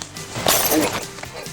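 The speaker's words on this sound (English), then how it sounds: "Remember the stunt where we broke a bottle over someone's head?" A polystyrene prop bottle, made to look like glass, is smashed over a person's head in a movie stunt show: one sharp breaking crack with brief scattering debris, loud and close.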